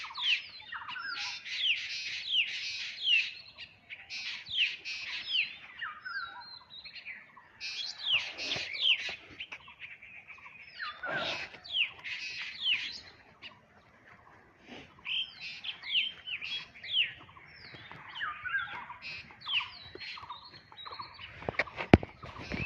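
Small birds chirp and twitter in quick overlapping bursts on a rainy-season village morning near a river, bright and fairly close against a quiet background.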